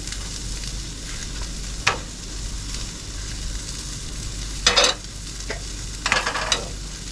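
Oil in a frying pan sizzling with a constant fizzing hiss while steak is cooked, close by, broken by a few sharper scrapes and clatters of the pan, no talking.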